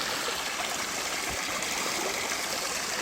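A stream in the Cohutta Wilderness trickles and rushes steadily, a close, continuous broadband wash of water with no voices.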